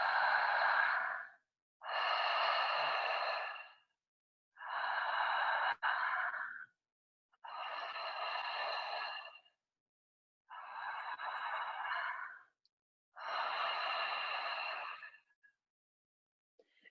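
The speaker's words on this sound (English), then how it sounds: "So we breathe through our mouth into our belly" Deep open-mouth breathing drawn into the belly during a breathwork exercise, six long rushing breaths in slow even rhythm with short silent gaps, close and airy like ocean waves, no talking.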